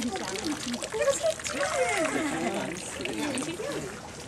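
Warm shower water splashes and trickles steadily onto a naked baby standing on a small wooden platform beneath a shower head, a continuous close hiss while a voice chatters over it.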